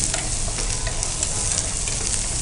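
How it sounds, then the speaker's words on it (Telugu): Corn manchurian pieces fry in oil, giving a dense, even, crackling sizzle with faint bubbling pops throughout the short stretch and no talking. "సో ఇక్కడ కూడా మంచిగా ఫ్రై అయిపోయినాయి."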